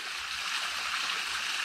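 A polluted river, turned brown and overgrown with algae, flows with a soft, steady hiss of running water, quiet and unbroken.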